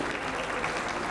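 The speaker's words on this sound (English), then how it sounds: "Ladies and gentlemen, a huge round of applause." Audience applause at the inaugural function of the 59th ABU General Assembly, a dense, steady wash of many hands clapping throughout, loud and even with no voices over it.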